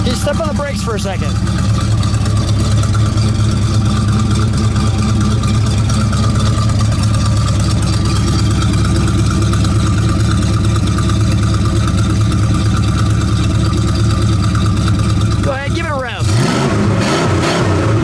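A 1970 Plymouth Superbird 440 V8 idles loud and close, a steady deep lumpy rumble throughout, with a brief shift in tone near the end.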